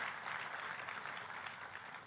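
A church congregation applauds at the call of a pastor, steady dense clapping that fills the room for a couple of seconds at a fairly soft, even level with no voices over it.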